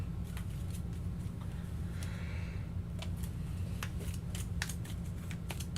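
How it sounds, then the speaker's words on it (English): A deck of game cards for a tabletop board game is shuffled by hand, with quick riffling snaps and rustles over a steady low background hum, without talk. "Now we shuffle the hit location deck."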